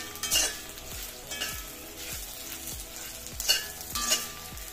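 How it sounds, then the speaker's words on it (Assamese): A spoon stirs spiced boiled potatoes in a hot pan, scraping in regular strokes about once a second over a low, continuous sizzle, close and moderately loud without voices. "এয়া মই গোটেইখিনি ভালদৰে লৰাই দিলো"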